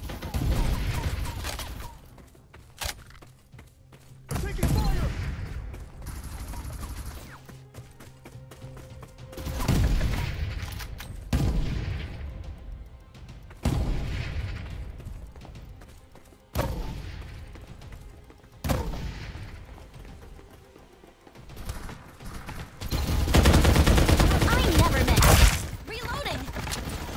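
Gunfire from the video game Farlight 84 comes in repeated loud bursts separated by quieter gaps, with brief voices heard between the shots.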